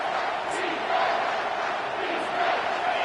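Football stadium crowd roaring on third down, a broad, steady wash of cheering and yelling from many distant voices, swelling slightly in loudness.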